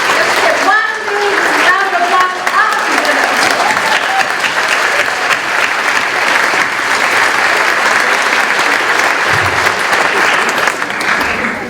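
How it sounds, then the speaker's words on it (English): Loud, dense audience applause fills a hall at a school faculty convocation, steady and continuous throughout, with some voices and murmurs mixed in. "Let's get one big round of applause."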